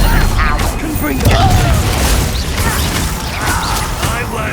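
Confringo fire spell blasts during a busy combat encounter in Hogwarts Legacy, a dense roar of booming impacts and crackling magic that stays loud and layered throughout, with no break in the chaos.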